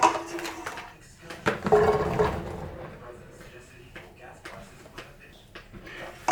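Tomatoes are moved into a pot for a feta cheese tomato pasta, with a clattering knock, a soft rushing slide, then lighter scrapes and taps of utensils and cookware, close and fairly clear.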